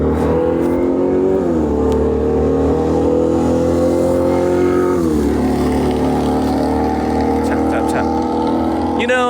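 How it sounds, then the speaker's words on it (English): A loud motorcycle engine revs hard and passes close by on a street in Kyoto at night, with rising and falling pitch through gear changes, steady and prominent throughout. "this loud ass motorcycle drove by at midnight waking me up"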